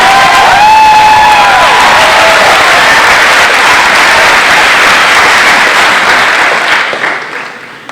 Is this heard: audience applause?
yes